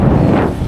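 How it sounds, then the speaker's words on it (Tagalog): Strong wind buffets the microphone with a loud, dense, continuous low rumble beside the water at MI City, with no voices. "Dahil grabe lakas ng hangin."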